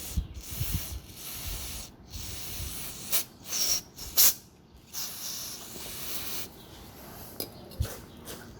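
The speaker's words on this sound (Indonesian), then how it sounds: "saya semprot ini untuk membersihkan samping-sampingnya dulu" An aerosol can of carbon cleaner sprays in several short hissing bursts with quiet pauses between them, close up and fairly loud, cleaning a Suzuki Carry 1000 spark plug.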